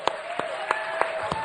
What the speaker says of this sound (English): Clap for that. Clap, yes. clap.